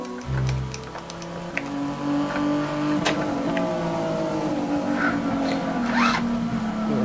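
Nissan GT-R LM Nismo race car in Gran Turismo 6, its turbo engine droning steadily with shifting pitch as it revs and shifts, loud and continuous throughout.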